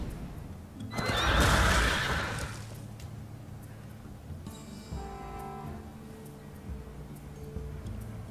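A headless horseman's horse unit in a video game gives one loud, drawn-out whinny, followed by quieter snorts and hoof-like clatter over soft game background tones.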